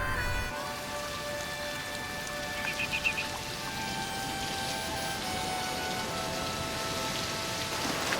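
Steady rain falls in Shetland, Scotland, in cold late April, with a constant soft patter of drops on surfaces, even and unbroken throughout.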